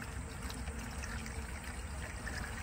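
Pre-diluted coolant poured into a car's coolant reservoir, heard as a steady close liquid trickle and splash running continuously without pause.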